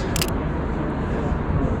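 A Sony a6500 camera fires its shutter once for a street photo in London, a brief crisp click standing out over steady outdoor city background noise.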